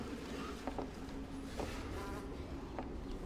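Flies buzz faintly and steadily in the video game 35MM, a thin insect drone under a dull ambient hum, with a few soft clicks.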